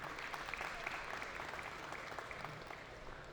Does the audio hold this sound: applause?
yes